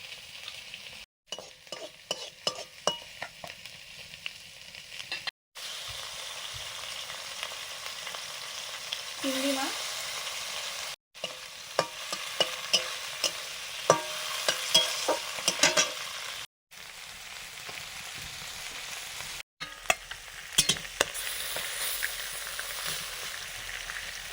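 Fish frying in mustard oil with black cumin and dried chillies, a soft continuous sizzle broken by repeated scraping stirs and occasional light clinks of a utensil against the pan.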